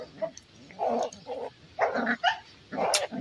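Beagle, Shih Tzu and Golden Retriever puppies play-fighting, giving several short yips, growls and barks in bursts, close by and fairly loud, with no talking.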